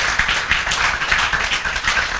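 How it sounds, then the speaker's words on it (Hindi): A classroom of students claps for a fellow student, a dense, steady patter of many hands lasting a couple of seconds with no talk over it. "दीदी के लिए जोरदार तालियां।"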